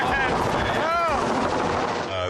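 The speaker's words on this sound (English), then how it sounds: "helicopter guy landed this thing like dead center of all these cans of Go Fast" A helicopter lands among cans of Go Fast, its rotor chopping loudly and close amid a wash of engine noise, with a brief whine sweeping through the middle.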